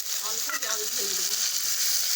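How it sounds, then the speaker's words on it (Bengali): A spice mixture with chopped tomatoes and a splash of water sizzles steadily in a pan, a continuous bright hiss with light stirring scrapes, while a voice speaks briefly over it. "এবার মশলাটা ভালো করে নেড়ে চেড়ে ভেজে নেব।"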